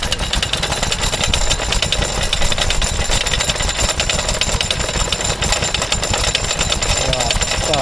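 A vintage Ruston Hornsby stationary engine thumps steadily and loudly throughout, a rapid low chugging rhythm with no pauses.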